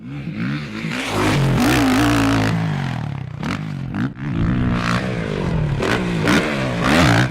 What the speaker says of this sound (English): world record dirt motorcycle jumper, flying off a dusty jump ramp while practicing his technique at Soap Lake Sand Pit